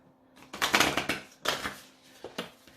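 Lover's Oracle cards are shuffled by hand, giving a few quick papery riffling bursts with short pauses between them, close and fairly soft.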